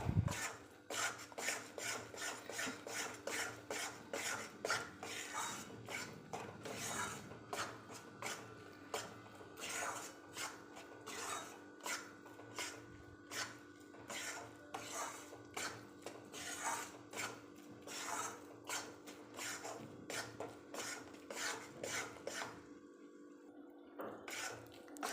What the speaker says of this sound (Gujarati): એને મીડિયમ ફ્લેમ પર આ રીતે હલાવતા જઈને